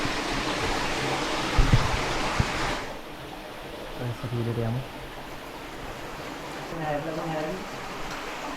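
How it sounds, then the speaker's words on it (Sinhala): A stream runs through a jungle gully in Sri Lanka beside a hidden tunnel, giving a steady broadband rush that drops noticeably partway through while voices speak briefly over it. "වතුර පාර වැදිලා නේ"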